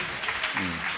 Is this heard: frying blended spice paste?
no